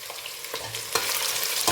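Mixed vegetables with squash are stirred and mixed in a pot for an African vegetable dish, with a constant sizzle and several sharper scrapes as the spoon moves through. No voices are heard.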